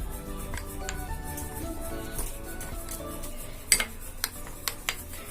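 A spoon scraping and clinking in a bowl while a dry fruit paste for custard kulfi is mixed, with steady stirring followed by several sharper metallic taps near the end; close, with no talk.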